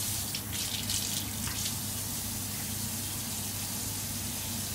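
Water runs steadily from a tap for washing a face, a constant hiss of flowing water heard close and alone at low level with no talking.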